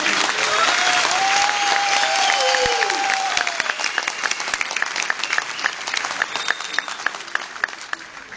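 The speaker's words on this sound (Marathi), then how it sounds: "बाळासाहेब या टाळ्या तुमच्यासाठी होत्या." A theatre audience at Gadkari Rangayatan in Thane claps for a Marathi play's 101st performance, sustained applause from a packed hall that thins into scattered claps, with a brief voice and crowd murmur early on.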